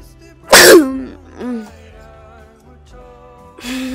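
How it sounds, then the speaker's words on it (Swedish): A single sharp sneeze bursts out close and loud, followed by a softer vocal sound and another short burst at the end, over faint game music during a Minecraft Skyflag match. "Jag nös där."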